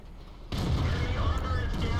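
Tank cannon fire from the World of Tanks game sounds as a sudden loud boom that cuts in after quiet rumble and rolls on as a dense, sustained blast with crackling debris.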